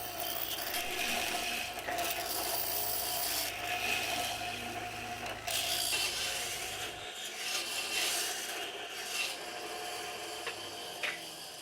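A restored 1957 mortising machine cuts mortises in wood, giving a steady, close rasping and grinding with rubbing scrapes that continue throughout, with a low mechanical hum dropping away partway through.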